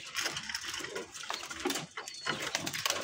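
Pigeons in a loft peck busily at their feed, giving a dense, steady patter of quick taps with a few soft coos mixed in, fairly close and continuous.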